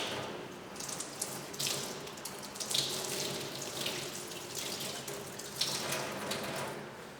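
Running tap water pours steadily into a sink, with soft splashing shifts as a sponge is held under the stream to wet it for hand scrubbing; no talking.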